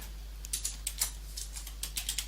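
Quick keystrokes tap on a computer keyboard, about a dozen crisp clicks in an uneven rhythm, close and fairly quiet over a low steady hum.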